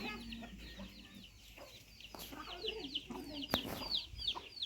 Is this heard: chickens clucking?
yes